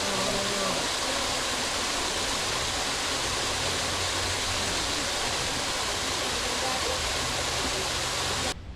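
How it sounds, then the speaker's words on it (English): A small waterfall on a hiking trail makes a steady, broadband rush of falling water that stays close and loud, unbroken for about eight and a half seconds before cutting off abruptly. "Oh, tiny waterfall, but we made it."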